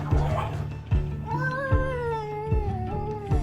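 A cat meows and yowls loudly in drawn-out wavering cries while rhythmic low thumps repeat beneath, alone without talk.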